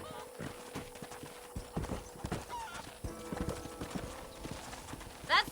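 Horse hooves clip-clop at a steady walking pace in the Red Dead Redemption video game, fairly quiet, with a brief whinny near the end.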